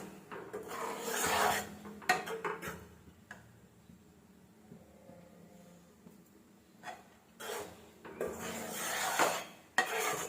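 Rice flour dry-roasting in a pan over a medium flame, giving soft scraping and rustling strokes in a few separate bursts, with quieter gaps between them.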